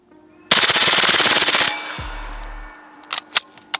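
A suppressed MP5 submachine gun fires a fast full-auto burst of a little over a second, loud and close, followed by a few metallic clicks and clanks from the weapon.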